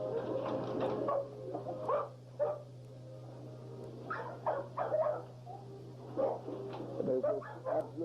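Several dogs in a yard give repeated barks, yips and whimpers in irregular bursts, moderately close, over a low, constant hum.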